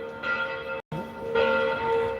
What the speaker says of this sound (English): I like to have the church bells ringing when I'm doing videos